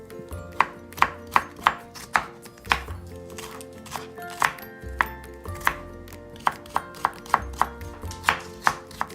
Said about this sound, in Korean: 채소는 이렇게 잘 썰어두고